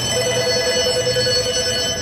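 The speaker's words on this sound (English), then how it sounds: "The phone's ringing!" A telephone rings in a shop where a Ram and a Jeep are being worked on, a steady electronic ringing tone that fills the clip, loud and close, with no talking.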